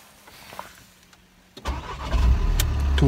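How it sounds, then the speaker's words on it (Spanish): A van's engine cranks and fires at about 1.6 seconds after a quiet stretch, then settles into a loud, steady idle; the vehicle had just been stuck in a ravine. "Vamos a ver si el coche arranca"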